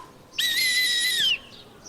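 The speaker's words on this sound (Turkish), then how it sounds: "Sana düdük aldım." A toy whistle gives one sustained, shrill blast lasting about a second, loud and close, with quiet before and after.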